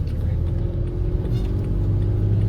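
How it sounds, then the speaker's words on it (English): A 3rd gen Toyota Tacoma with a 4-liter V6 and a six-speed manual, heard from the cabin while driving, giving a steady low engine and road rumble with a faint hum that holds throughout. "this is my first time driving a 3rd gen Tacoma manual"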